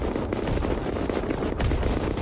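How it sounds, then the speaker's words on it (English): Cannons in Albion pound a Nexus in a dense, continuous barrage of booming impacts and crackling blasts, loud and layered with no gaps between shots. "cannonballs are just raining in there"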